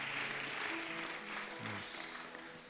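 A congregation at a fasting prayer service claps hands in thanks to God, a soft, diffuse patter of applause heard faintly at a distance with some voices and a brief high tone.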